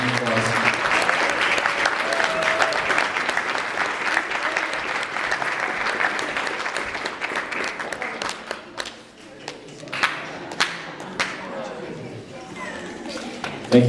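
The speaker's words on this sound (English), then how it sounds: "Let's give her a round of applause." Audience at a high school swim banquet applauding: dense, loud clapping that holds steady for several seconds, then thins into scattered individual claps, with voices murmuring underneath.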